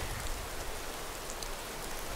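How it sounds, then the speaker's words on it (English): Steady rainfall in the video game Skyrim, a continuous broadband hiss of drops hitting the ground, even and unbroken throughout with no voices. "Rain releases all the best smells."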